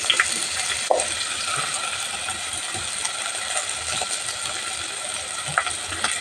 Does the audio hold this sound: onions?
yes